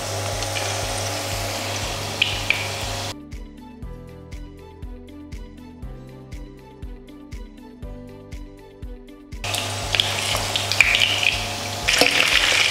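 Pieces of salt cod fry in a large pan with a steady hiss and sizzle at the start and end, broken by a stretch of background music in the middle.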